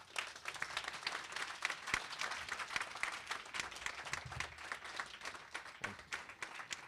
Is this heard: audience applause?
yes